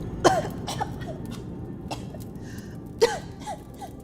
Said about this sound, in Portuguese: O menino tossiu de novo